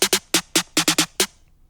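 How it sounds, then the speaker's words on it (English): A snare drum struck in a quick, uneven burst of about eight sharp hits, close and crisp, then a brief decaying tail. "there's like a snare sound, snare roll"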